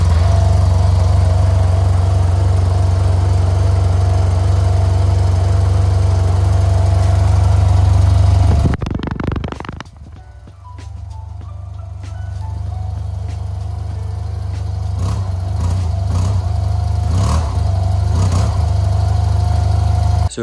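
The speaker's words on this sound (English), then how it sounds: "All right, guys, here's a stock Tmax exhaust." Yamaha Tmax 530 scooter with stock exhaust idling, a loud deep steady burble close by that cuts away after about nine seconds, leaving quieter, thinner engine noise and scattered clicks.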